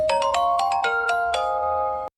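Singapore Mass Rapid Transit train jingle: a short, bright ringtone-like melody of about seven chiming notes, clear and alone, ending abruptly.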